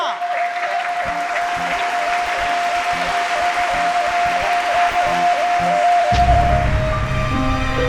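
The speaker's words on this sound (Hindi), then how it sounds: "जोरदार तालियों से स्वागत कीजिए इनका।" Loud, continuous applause at a school prize-giving welcomes a best-dancer award winner, steady through the clip, with a sustained musical tone beneath and a low rumble joining near the end.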